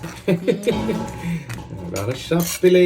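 Crab curry with curry leaves being stirred in a pan, giving several light metallic clinks and scrapes of a spoon against the pan under a voice talking.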